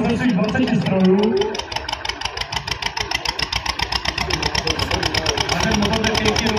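Tractor engine at a tractor show in Horní Újezd, idling with a rapid, even chugging pulse close by, with voices talking over it at the start.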